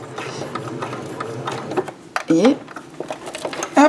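Sewing machine stitching faux leather in forward and then reverse, sounding as a short run of rapid mechanical stitching bursts with brief pauses between them. French speech runs over it.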